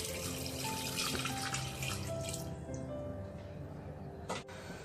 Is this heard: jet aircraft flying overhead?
no